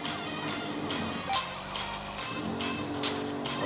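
Power truck from the Smashy Road video game driving along with a steady, loud engine drone, brief tire squeal accents and occasional skids, no talk.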